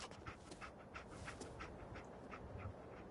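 Dogmeat the dog pants in Fallout, a steady rhythm of quick, breathy huffs close by, heard alone with no talk.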